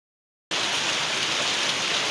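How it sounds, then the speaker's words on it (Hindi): Heavy rain pours steadily in Karachi, a dense, even hiss that starts abruptly after a moment of silence and continues loud and close without any voices. "बारिश तो चल रही थी और बारिश की थोड़ी सी आवाज़ सुनाती हूँ"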